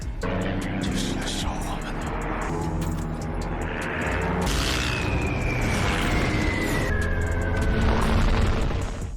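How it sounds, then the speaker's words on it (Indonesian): Fire bombs explode in a dense, rumbling din, with a sharp blast midway and a whistling whine cutting through the layered roar. "Ketika bom-bom itu meledak mengarah ke mereka"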